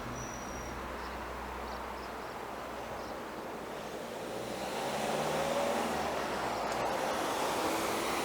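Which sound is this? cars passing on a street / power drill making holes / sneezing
cars passing on a street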